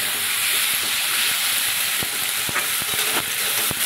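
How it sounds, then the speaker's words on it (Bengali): Chopped tomato sizzling with small fish in a hot pan, a steady dense hiss of frying with a few sharp scrape and stir clicks near the end. "এবার একটু আস্তে আস্তে নাড়তে হবে, যাতে টমেটোটা ভালো করে সেদ্ধ হয়ে যায়।"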